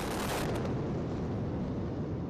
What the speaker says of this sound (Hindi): कैसे धमाके के साथ ही ट्विन टावर ताश के पत्तों की तरह ढेर हो गया